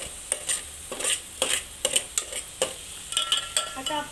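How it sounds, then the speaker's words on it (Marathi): Coriander masala sizzles in a hot pan while a spoon stirs and scrapes it in quick, regular strokes, close and steady with a light frying hiss underneath. "आता चांगलं मस्तपैकी गुलाबी रंगावर परतून घ्यायचं."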